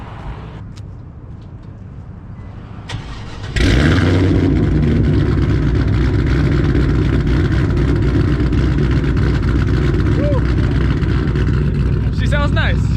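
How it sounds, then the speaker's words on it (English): Supercharged LS1 V8 with LSA blower in a six-speed Infiniti G35 cranks and fires up, then holds a loud, deep, steady idle close by, with people talking over the rumble. "You want to start her up for us?"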